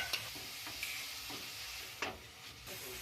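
A radish and small shrimp curry is stirred in a pan, giving a faint, soft sizzle broken by a handful of scraping spatula strokes at uneven intervals, with no voices.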